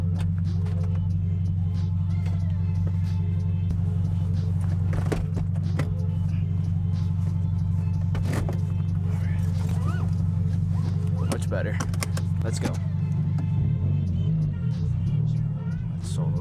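A car fitted with a Spec D Tuning aftermarket exhaust drones loud and steady throughout, with a deep rumbling tone that rises and wavers as it accelerates, heard from inside the cabin while people briefly talk.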